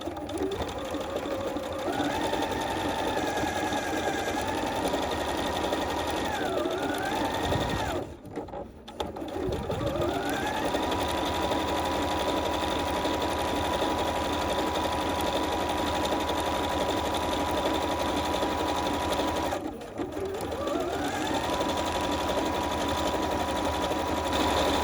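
A bernette 37 / b 38 sewing machine stitches fabric in a continuous close, mechanical whir, briefly stopping twice before running on at the same even pace.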